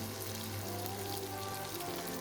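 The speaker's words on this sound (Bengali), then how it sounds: "এবার পেঁয়াজ, কাঁচামরিচ এবং রসুন কুচিগুলো ভালোভাবে তেলে ভেজে নিচ্ছি।" Chopped onion, green chili and garlic fry in the oil left over from frying fish, giving a steady, even sizzling hiss that sounds rain-like and continues close and unbroken throughout.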